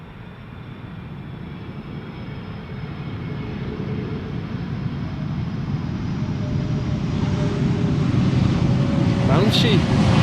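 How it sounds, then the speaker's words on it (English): A KLM Airbus A330-200 airliner arrives at Schiphol Airport, its jet engine roar rising steadily from a distant rumble to a louder, fuller drone over about ten seconds. "This is KLM flight 767 arriving from Bonaire. It's an A330-200"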